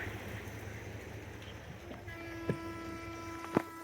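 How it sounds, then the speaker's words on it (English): A 1987 Malibu Sunsetter boat engine's impeller spins up: a low steady rumble gives way to a sustained whining hum with layered tones, punctuated by two sharp clunks, fairly close. "That's the impeller spinning."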